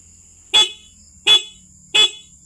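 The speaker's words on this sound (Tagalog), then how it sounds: "Stock horn." A car's stock factory horn gives three short, evenly spaced honks, loud and close, each lasting about a tenth of a second over a faint background hum.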